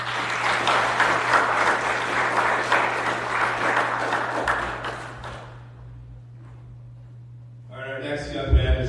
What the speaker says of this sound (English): I just wanted you guys to give him a round of applause.